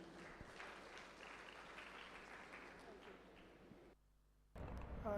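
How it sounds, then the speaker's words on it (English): An audience at an IEEE international conference applauds in a sustained, even wash of clapping, fairly faint and distant, before a short pause and a voice taking over. "Let's have a thundering round of applause"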